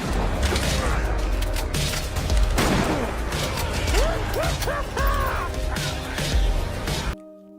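Gunfire aimed at zombies in a film, a dense fusillade of shots mixed with crashes and rising shrieks, loud and continuous until it cuts off abruptly near the end.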